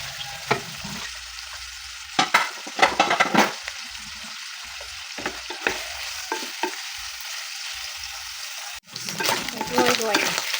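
Garlic frying in hot oil in a pan while cooking adobong sitaw, with sharp crackling spatters and bursts of sizzle, a stirring clatter, and a brief cutoff before louder popping resumes.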